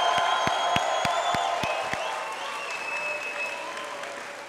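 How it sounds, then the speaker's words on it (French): A crowd at a boxing fight night claps in unison to a few sharp, evenly spaced beats, then breaks into looser continuous applause with scattered cheering that gradually fades. "j'aimerais ça qu'on fasse du bruit et qu'on applaudisse nos guerriers du ring"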